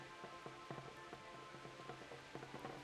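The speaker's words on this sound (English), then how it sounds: "Still raining." Steady rain in the medieval game Kingdom Come: Deliverance, a faint continuous hiss with scattered soft drip-like taps throughout.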